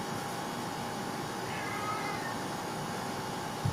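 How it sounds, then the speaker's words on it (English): A cat meows and howls during a home livestream, a drawn-out moderately loud cry rising midway and sustained against steady background noise, with no talking over it. "Why is my cat howling?"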